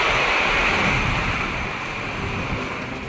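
Strong wind and heavy rain during a storm in Abra, a steady loud roar of gusting air and downpour that stays dense throughout and eases only slightly toward the end, with no voices.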